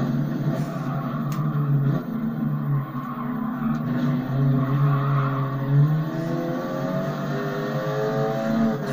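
A race car in the GT Sport racing video game runs off the track, its engine droning steadily with rising and falling pitch and a brief tire skid, loud and continuous throughout.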